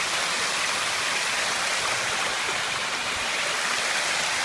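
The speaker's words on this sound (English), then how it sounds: "the water absolutely pours over that part there" Creek water pours steadily over rocks near a small bridge in the Philippines, a dense, even rush that stays loud and close and carries on without a break.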